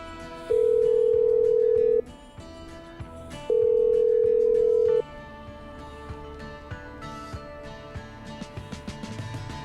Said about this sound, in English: I'm dialing.